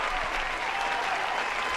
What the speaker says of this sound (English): So, applause for that. Applause. We do get applause for